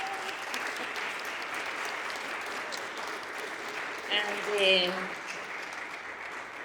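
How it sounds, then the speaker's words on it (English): Modest audience applause at a talk, honoring a guest, heard as a soft, steady patter of clapping with a brief voice near the end. "I wanted to ask you to join me in giving an applause to Marina"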